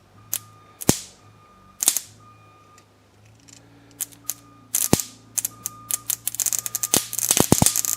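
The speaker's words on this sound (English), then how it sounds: "I'm getting spark out of this" Sharp, crackling snaps of ignition sparks from a booster cable on a car distributor, a few isolated at first, then a quick burst of rapid pops, close and loud.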